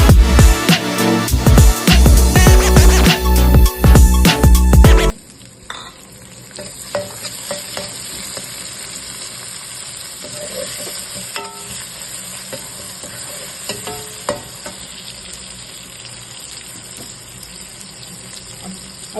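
Onions and spices fry in a pan for a dish of potato, spinach and fenugreek, a loud, busy sizzle with stirring for the first few seconds, then dropping to a faint, steady crackle.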